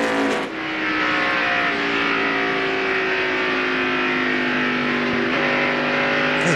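NASCAR stock cars race in the 2001 Pennzoil Freedom 400, engines roaring loud and steady with overlapping tones as cars pass close by, pitch shifting as they sweep past, with no talk.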